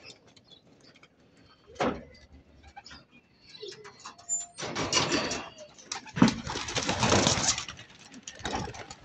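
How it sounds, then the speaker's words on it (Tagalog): Pigeons fly out of an opened coop, with sharp wing claps and fluttering bursts that grow denser and louder toward the end, along with a few faint coos and knocks. "Yun mga kaibon, nagliparan na, oh. Yun, oh. Yun. Yun na yung ating kalapate."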